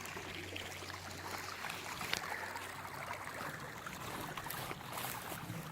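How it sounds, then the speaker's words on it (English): A small, shallow brook runs over rocks on open rural land, giving a steady, faint trickle and wash of water throughout with no voices. "It's like a nice running brook."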